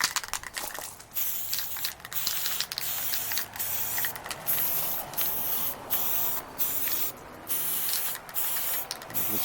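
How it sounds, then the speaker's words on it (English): Army Painter white primer spray paint hisses onto plastic miniature spiders in a series of loud, close bursts of varying length separated by short pauses, with no talking. "here's the white primer we're going to use from the Army Painter. Well, let's just go ahead and spray it straight down onto the Ancient Spiders"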